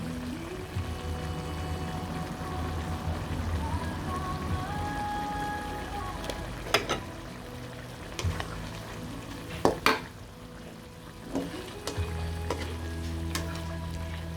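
Potatoes and carrots cook in a pan for chicken liver sarsiado, giving a low, even sizzle with occasional clanks of a utensil against the pan, fairly quiet throughout.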